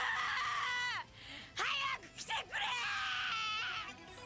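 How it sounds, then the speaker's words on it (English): Krillin, the Dragon Ball character, lets out high, strained anime screams for Goku in a Dokkan Battle teaser. The cries come in several rising and falling bursts with short breaks between them. "So yeah, Krillin screaming for Goku"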